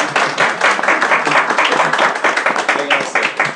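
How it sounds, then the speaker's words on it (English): Audience members at a panel discussion on social media and education give a close, full round of applause, a thick wash of overlapping claps with faint talk mixed in. "Please give them a round of applause."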